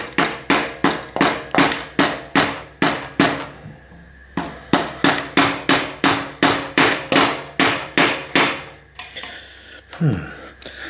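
Repeated metallic blows while working on a Specialized Allez bicycle with a damaged frame, striking a stuck part to knock it loose: about twenty sharp, evenly spaced strikes, close and loud, followed by a brief scrape.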